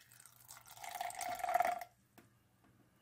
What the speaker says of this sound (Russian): Вот 55 грамм я влила водички.